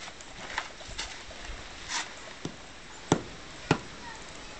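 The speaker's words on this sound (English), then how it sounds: "I'm adding it in thin layers and tamping it." Rice hull ash being tamped down in thin layers, giving a series of dull, separate thuds spaced irregularly over faint background noise, with a few sharper knocks near the end.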